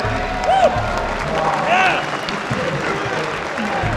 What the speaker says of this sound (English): a big round of applause, please, for our free-for-all champions